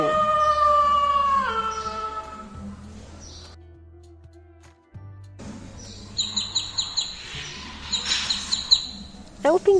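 A young chick peeps in quick, high, repeated bursts during the second half, after a stretch of other animal and tonal sounds and a brief near-silent pause.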